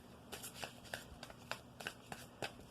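Tarot cards being shuffled by hand, a quick series of soft riffling flicks and taps, close and quiet.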